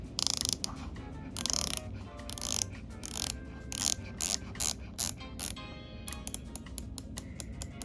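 The bezel of a 300m diver watch with a 42 mm case is turned through a rapid series of crisp, close ratcheting clicks, the run of clicks gradually slowing with short pauses.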